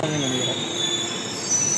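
Delhi Metro train wheels squeal in a steady, high metallic whine with a continuous rumbling ride underneath, loud and sustained throughout with no pauses.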